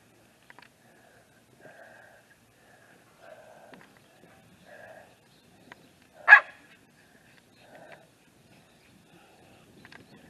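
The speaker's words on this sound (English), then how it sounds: "Peanut, bad dog, come on." A dog in a garden pants in soft, intermittent bursts across several seconds and gives one sharper, louder bark midway, with quiet gaps between the sounds.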